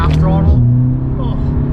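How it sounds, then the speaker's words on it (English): Volkswagen 7-speed DSG gearbox upshifting at half throttle, engine note dropping abruptly at the shift and settling to a steady drone, with a voice over the engine. "nice crisp shift, much crisper shift"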